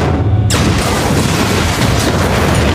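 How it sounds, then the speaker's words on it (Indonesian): A large explosion in an Alex Rider spy film hits with a sudden loud blast that becomes a sustained roaring rumble of debris and fire, dense and unbroken for several seconds before cutting off abruptly. "sesaat kemudian terjadilah sebuah ledakan besar yang bahkan ikut mengenai tim di luar yang mencoba untuk membuka pintu"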